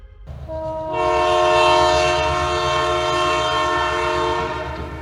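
A train sounds a long, loud horn close by, the sustained chord holding for several seconds over the low rumble of the rail cars.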